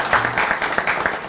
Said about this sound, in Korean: 긍정하시면 박수 한번 보내주세요.